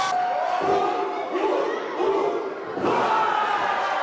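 A packed wrestling arena crowd roars and cheers without pause, a dense wall of shouting voices that surges louder near the end.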